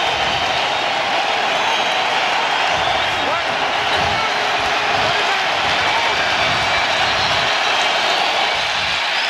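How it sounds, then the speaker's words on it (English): A large NFL stadium crowd at Hard Rock Stadium buzzes steadily during a Texans–Dolphins game on third down, a dense continuous roar of distant voices with a broadcast commentator talking over it. "Crowd, those that are here supporting their team, buzzing on a 3rd and 7"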